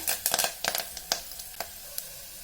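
Curry leaves fry in hot oil for tempering in a pan for a field bean sambar, crackling and sizzling in a quick series of sharp pops over a soft continuous hiss.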